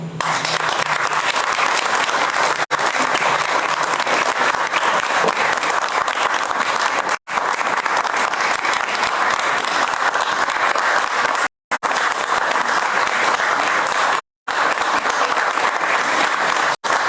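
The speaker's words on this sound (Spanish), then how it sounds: "El aplauso merecidísimo" A large audience at a televised Caribbean cultural event bursts into dense, loud, continuous applause lasting well over fifteen seconds, broken only by a few brief cuts.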